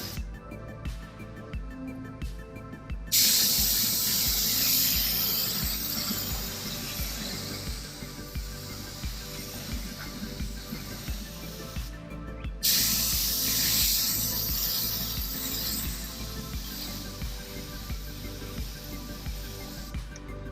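An aerosol can sprays paint onto a car wheel in two long, close hissing passes, each starting sharply and lasting several seconds, over low background rumble.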